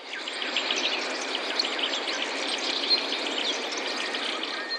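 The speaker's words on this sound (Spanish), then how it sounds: "aves," Birdsong ambience from the Serenity 2 synth plugin's sound-effect layer, a dense wash of faint chirps and tweets over a steady airy hiss, with no voices.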